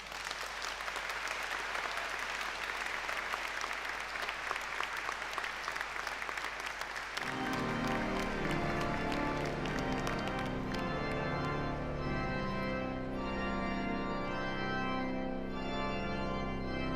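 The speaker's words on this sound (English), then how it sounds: "You all deserve a huge round of applause" Broad, dense applause from a graduation ceremony audience fills the first seven seconds, then gives way to loud instrumental music that carries on to the end.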